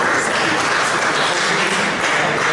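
A seated audience at a twinned-towns meeting in Auxerre gives a guest a dense, even round of applause, a loud continuous patter of many hands with no distinct voices.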